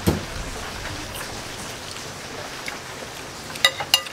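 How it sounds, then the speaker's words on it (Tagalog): Steady rainfall patters continuously close by, a soft even hiss with a few louder drips near the end. "Ngayon umuulan-ulan."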